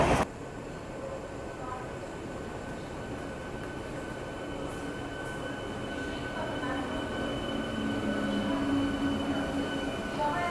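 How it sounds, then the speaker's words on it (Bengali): A train on the Kolkata–Bakkhali line rolls into a station with a steady rumble of wheels on rails, growing slightly louder and rising to a brief wheel squeal. "তো চলো এখন ট্রেন আসুক, ট্রেনে উঠি"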